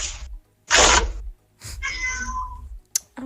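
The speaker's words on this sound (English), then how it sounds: "I want to see your cat." A cat meows several times close up, with short, distinct calls separated by pauses, one rising into a longer drawn-out meow.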